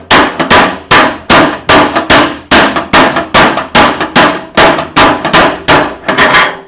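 Repeated hammer blows on a chisel cut through an empty metal oil tin. The strikes land in quick bursts of two or three, each a sharp ringing clang. They sound close and loud, with brief gaps between the clusters and no talking.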